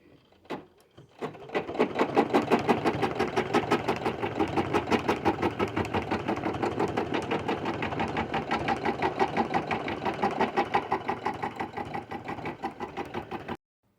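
An embroidery machine with the hoop fitted stitches a satin stitch, starting after a couple of clicks, then running fast and rhythmic with a steady mechanical chatter until it stops, and no talking.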